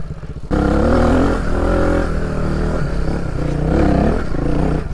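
A small Suzuki DR 350 enduro motorcycle revs loudly and close after a brief quieter start, its engine rising and falling in steady roaring bursts on a trail.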